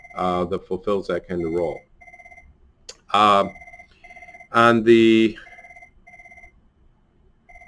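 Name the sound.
phone ringing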